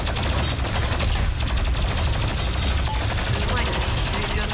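Rapid continuous gunfire from the VR-2000 weapon in the video game Doom Eternal, loud dense automatic bursts crackling without pause.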